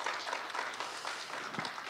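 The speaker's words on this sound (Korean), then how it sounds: "우리 이동민 선수를 위해서 박수 한번 좀 쳐주시기 바라겠습니다" An audience at a sports session on the Gangwon 2024 Winter Youth Olympic Games claps briefly for athlete Lee Dong-min, a soft, distant patter of hands that fades quickly.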